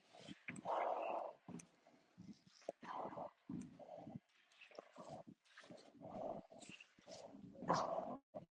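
A dog barks and growls in repeated short bursts at Hawkstone Park, faint and distant, with irregular gaps between the outbursts.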